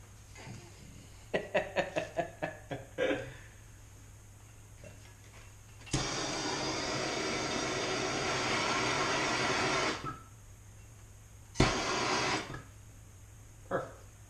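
A torch heats a part during turbo removal on an Integra Type R barn find. Clicks come first, then a steady roaring hiss lasts about four seconds, followed by a shorter second burst, all quiet and close.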